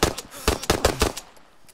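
A quick burst of about eight loud, close gunshots in an uneven rapid rhythm, each sharp crack decaying briefly before the next, fading out near the end.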